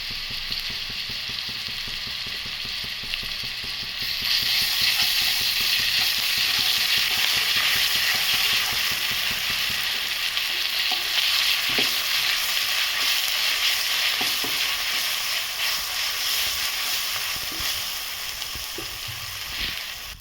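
Ginger garlic paste sizzles hard in a pan for tomato curry, a loud, dense, continuous frying hiss with scraping stirs and a few clicks of the spatula underneath, steady throughout.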